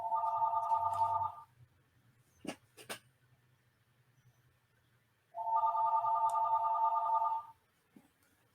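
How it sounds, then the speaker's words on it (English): A telephone rings indoors in two long electronic trilling bursts several seconds apart, loud and close, with a couple of soft knocks in the quiet gap and no talking. "I'm sorry about the phone ringing"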